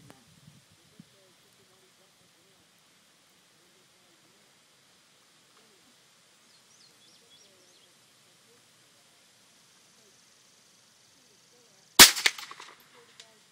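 A single sharp ring of a .22 round from a Remington 597 rifle striking a 10-inch steel plate, brief and bright after a long stretch of quiet wind, with a short decaying tail.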